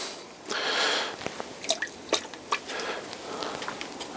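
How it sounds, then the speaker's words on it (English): Ceramic glaze dribbled and sloshed from a wide brush onto a pottery piece, giving a string of wet drips and soft squishy splats close by, with a brief liquid rush near the start. "So we're just dribbling that on just so it's covered"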